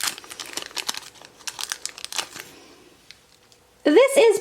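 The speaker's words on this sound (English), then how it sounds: "We're gonna go ahead and take our blind bag and cut it open very gently." Scissors snip and crinkle a plastic Shopkins blind bag in a run of close, crackling bursts, then the sound fades before a voice begins speaking at the end.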